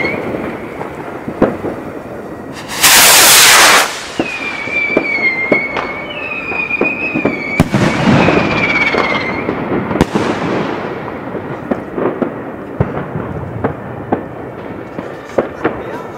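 A Tropic Stella firework rocket on New Year's Eve gives a loud burst of crackling fizz, then whistling tones and scattered pops and bangs from other fireworks nearby, with faint voices in the background.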